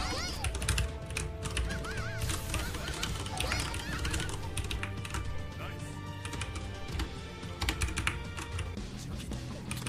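Rapid, continuous clacking from a Leopold R900 mechanical keyboard with brown switches runs under busy game sound effects and someone talking.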